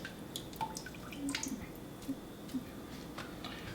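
Eggplant slices are rinsed under water, giving faint, quiet drips and soft wet squishes with a few small splashes spread across the moment.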